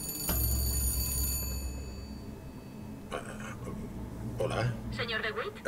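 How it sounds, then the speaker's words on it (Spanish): A telephone rings in the Bioshock Infinite video game, a bright repeating bell tone over steady background game sound, followed by louder bursts as the scene continues. "nos llaman por teléfono."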